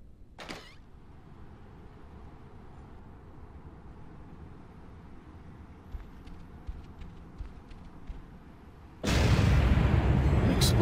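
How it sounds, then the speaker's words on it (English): A sudden loud explosion bursts in Spider-Man 2 gameplay after a long quiet stretch of low background hum, with a brief sharp sound near the start. "Explosion. Better check it out."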